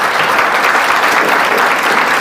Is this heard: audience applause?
yes